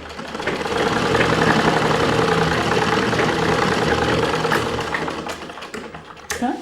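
Sewing machine stitching a blouse hem: a loud, steady mechanical whir runs for about five seconds, then slows and stops with a few clicks at the end.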